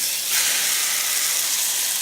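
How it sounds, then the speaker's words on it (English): Tofu mixture sizzling in a pan of coconut oil over medium heat, a loud, steady, close hiss of frying. "we're gonna take the tofu mixture and then put it in a pan on medium heat with coconut oil."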